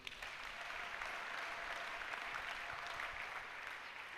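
A church congregation claps together in acclaim of the Lord, a dense, steady burst of applause sustained for several seconds at moderate distance with no voices standing out.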